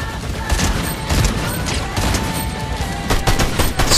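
Rapid SMG gunfire from the Fortnite video game, dense continuous bursts crackling loudly through the whole stretch, mixed with in-game effects and no clear speech.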